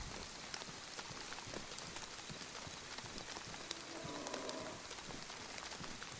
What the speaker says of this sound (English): So, but it's raining.